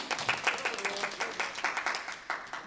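An audience at a lecture event claps for a speaker, a moderately loud patter of many hands with rhythmic bursts running through the whole stretch.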